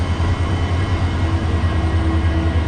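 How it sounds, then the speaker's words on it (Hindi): A push-pull train with EMD locomotives at both ends rolls past close by, a loud, steady low rumble of engines and wagons on the rails, with a faint whine rising near the end. "दोनों EMD एक साथ मिल करके ट्रेन को पुश और पुल कर रहे हैं"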